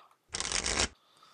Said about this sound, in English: Now we'll shuffle this.